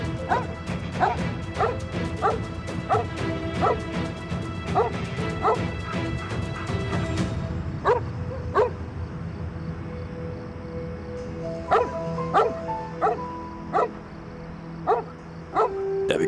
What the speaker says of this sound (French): Pourquoi ce chien aboie comme ça?